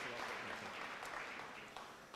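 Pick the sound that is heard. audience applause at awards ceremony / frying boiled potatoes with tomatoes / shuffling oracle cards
audience applause at awards ceremony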